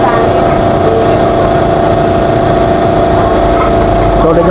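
A Sym Bonus 110 motorcycle engine runs steadily at idle, a loud, close, continuous droning putter with a constant rhythm, a brief change in tone at the very end.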